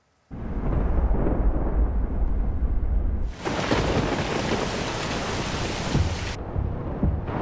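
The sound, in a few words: rain and thunder during a storm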